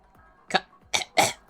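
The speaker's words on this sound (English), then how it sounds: "I don't know what the cough was about." A video game character gives three short, sharp coughs in quick succession, close and fairly loud against a quiet background.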